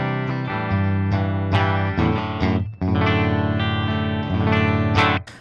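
Electric guitar through the clean channel of a PRS Archon amp model on an Axe-Fx III, strummed chords and picked notes ringing out clearly, fairly loud, with no voices.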